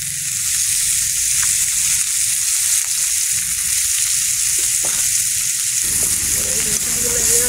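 Oil and sliced garlic for a fish curry sizzle loudly in a pan, a dense, continuous crackle that holds steady throughout, with the tone shifting slightly toward the end.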